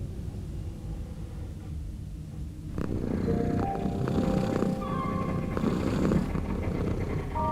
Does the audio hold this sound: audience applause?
no